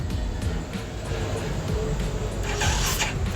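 A vehicle engine being cranked in an attempt to start it, a steady, dense, close mechanical churn that never clearly catches and rev up, with faint voice nearby.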